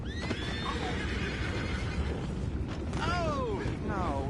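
Horses whinny twice in the video game Red Dead Redemption 2 over a steady, busy background rumble with faint creaks, the calls clear and fairly close.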